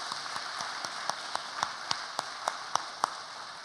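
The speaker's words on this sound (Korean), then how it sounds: "제가 박수로 한번 감사의 뜻을 표하도록 하겠습니다" Applause in a church service, offered to a visiting pastor: a thin, quiet patter of claps with a handful of sharper individual claps standing out at irregular intervals, soft and somewhat distant throughout.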